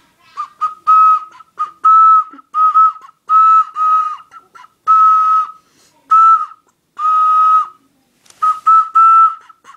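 An ocarina plays the Lost Woods melody, a clear breathy whistle-like tone in short bouncy phrases with brief gaps between them, close and loud, with no talking.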